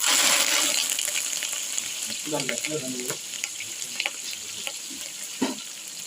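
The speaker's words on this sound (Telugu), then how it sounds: "ముక్కలు వేపించి ఇలా ఉంచాం. పచ్చిమిరపకాయలు వేసాం. కరివేపాకు వేసాను." Green chillies and curry leaves frying in oil alongside paneer pieces, a strong close sizzle that eases slightly, broken by a few scraping stirs and taps of the spoon.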